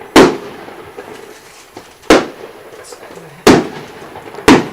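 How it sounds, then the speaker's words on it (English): Fireworks are shot off during a high school football game, four sharp booms spaced about a second or two apart, each cracking loudly then fading with echo, and no talk in between. "Sounds like we're getting some fireworks getting shot off here."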